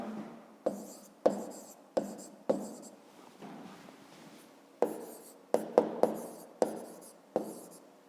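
Pen strokes on paper during a fifth-grade maths exercise, a dense run of scratching marks with sharp taps between them, close and fairly quiet, with no voice over them.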